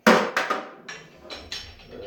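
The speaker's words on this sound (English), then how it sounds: "bolt in the bucket." A metal bike bolt drops into a bucket, giving a sharp clank followed by several quickly fading bouncing rattles, close and clear with no talk.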